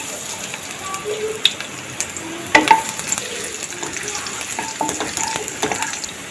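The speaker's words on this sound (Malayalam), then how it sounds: "ഇതിലേക്ക് നമ്മൾ 1 ടേബിൾ സ്പൂൺ വെളുത്തുള്ളി ചെറുതാക്കി അരിഞ്ഞ് വെച്ചിട്ടിട്ട് ഒന്ന് വഴറ്റാം." Finely chopped garlic sautéing in sunflower oil in a pan for egg fried rice, a soft continuous sizzle with scattered scraping and stirring clicks.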